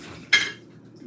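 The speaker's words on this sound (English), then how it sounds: "I'm washing the dishes and cleaning my kitchen right now" Dishes being washed at a home kitchen sink during Thanksgiving cooking, with one brief clatter of a dish or cutlery over a low, steady background hum.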